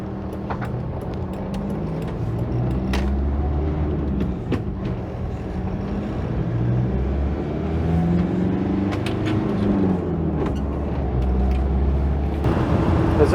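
A car driving along a forested country road gives a steady, loud engine hum and tyre rumble with a low drone running throughout, swelling slightly toward the end.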